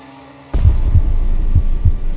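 Heartbeat sound effect in an animated story: a sudden wall of low, dull thuds arriving in double-beat pairs, loud and close over a humming background, with no talking.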